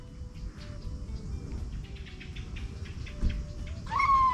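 A cat mewing faintly several times against outdoor background noise, ending with a louder, drawn-out cry.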